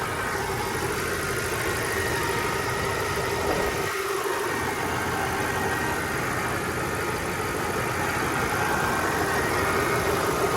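Audi C5 S6 Avant wagon with a 4.2-litre V8 idles steadily up close, a smooth continuous mid-range engine hum with a brief dip around the middle and no talking.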